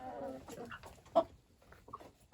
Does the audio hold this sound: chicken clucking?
yes